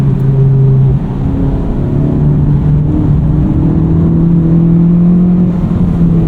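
2023 Honda Civic Type R on Bridgestone Potenza Sport A/S tyres driving a wet track, heard from inside as a loud, steady engine drone with shifting tones as revs rise and fall, with no voices.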